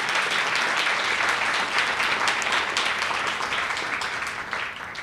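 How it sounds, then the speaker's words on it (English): An audience claps at a Brooklyn economic development forum, a loud, dense round of applause that gradually fades toward the end. "So you wanted to clap?"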